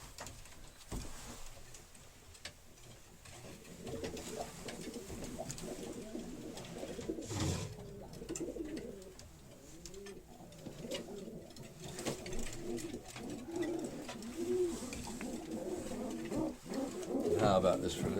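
Racing pigeons coo softly in a loft at the end of the 2023 season, a steady low murmuring of several birds with light wing patter beneath someone talking throughout.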